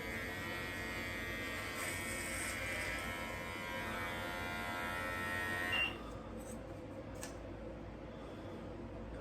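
An electric hair clipper buzzes steadily and close while shaving hair held between fingers, then the tone shifts and thins partway through as the blades move through the hair.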